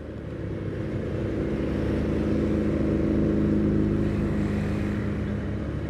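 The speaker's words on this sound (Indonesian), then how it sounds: "Oke, mobil-mobil ramai." Busy night traffic around the town square in Bekasi, a steady, loud drone of car and motorcycle engines passing close by.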